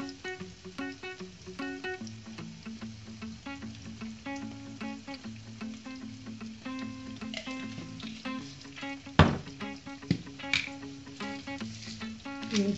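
Chicken pieces dropping into a pan of golden, softened onion, a steady crackling sizzle close up, with a couple of louder splattering pops partway through.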